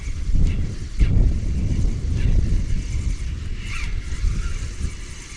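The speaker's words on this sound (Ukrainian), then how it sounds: "Вітер доволі сильний." Steady, strong wind buffets the microphone throughout, a low rumbling roar with gusty surges and no voices.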